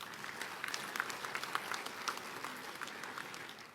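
An audience at a convocation ceremony claps for the lecturers, a quiet, steady patter of scattered hands from a fairly distant crowd.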